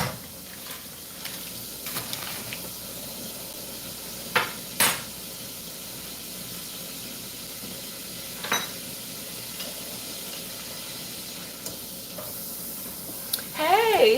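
Ground pork sizzles in a frying pan as a steady low hiss, with occasional clinks and stirring scrapes standing out, while someone talks nearby.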